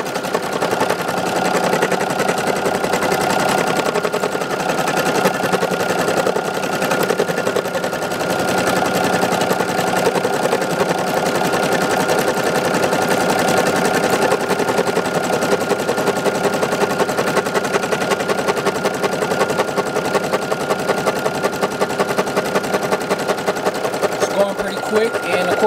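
An embroidery machine stitching a design on a beanie runs continuously with a fast, steady mechanical rattle of needle strokes throughout, loud and unbroken, with faint background talk.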